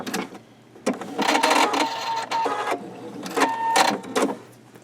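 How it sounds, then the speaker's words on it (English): A sewing machine runs in two quick bursts of rapid mechanical stitching, close and clattering, with a short pause between them. "your sewing machine, the dog feed, will help to pull it in"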